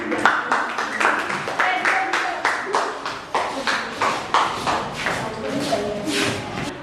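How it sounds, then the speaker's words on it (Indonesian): Children in a classroom clap for a classmate, a burst of dense, uneven applause with overlapping hand claps that keeps a fairly steady level for several seconds and carries some shuffling underneath. "Beri dulu tepuk tangan sama teman kalian."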